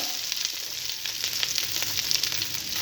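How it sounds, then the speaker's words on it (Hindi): Chopped onions frying in a few spoonfuls of cooking oil in a kadai on a stove, a steady close crackling sizzle with scattered pops and no talking. "प्याज को हमें लाइट सा फ्राई करना है।"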